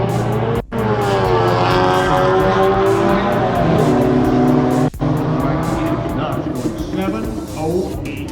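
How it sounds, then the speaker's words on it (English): An Audi all-wheel drive car accelerates hard away at a European car show, its loud engine note holding steady and rising over about eight seconds, with crowd noise and voices underneath. "Audi powers away."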